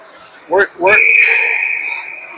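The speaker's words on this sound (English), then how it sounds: "That was a delayed whistle." A referee's whistle blows at an ice hockey game, one short blast followed by a long sustained one, loud and shrill over crowd noise.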